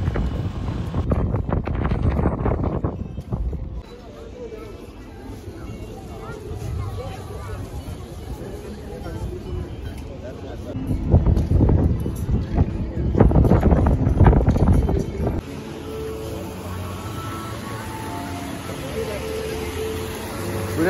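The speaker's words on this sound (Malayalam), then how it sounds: "നല്ല കാറ്റുണ്ട്" Strong wind buffets the microphone outdoors at Riyadh Season in Saudi Arabia, a loud low rumble that swells and fades in gusts, with people talking through and between the gusts.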